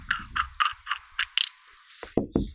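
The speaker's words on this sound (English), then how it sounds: "And we'll grab another wrench and take off our fluid inlet." A wrench takes the fluid inlet off an AQ fluid regulator during a rebuild: a series of close metallic ratchet clicks, then a few heavier clanks of metal parts near the end.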